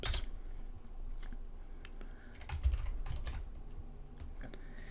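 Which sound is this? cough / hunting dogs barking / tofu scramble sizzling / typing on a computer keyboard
typing on a computer keyboard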